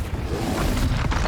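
A Confringo explosion spell cast in Hogwarts Legacy, heard as a dense, rumbling low boom with a short whooshing burst, loud and sustained for about a second and a half with no speech.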